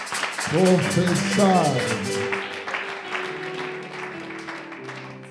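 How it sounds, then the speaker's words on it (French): A church congregation claps and cheers, rising loudly at first and then tapering, while a voice rings out in an excited shout over the applause. "Acclamez pour le Seigneur."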